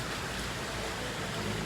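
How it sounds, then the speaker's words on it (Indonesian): Rain pours down at a Harapan Jaya bus terminal in Palembang, a dense, even hiss of falling water that stays steady and moderately faint throughout the short stretch. "diguyur hujan ya"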